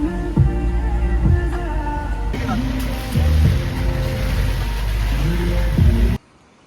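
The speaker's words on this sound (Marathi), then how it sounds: "2 गाड्यांचा प्रवास चालू आहे आज." A car climbing the mountain road toward Nathula Pass in Sikkim, with a steady low engine drone and road rumble throughout and a brief voice over it, the noise cutting off abruptly near the end.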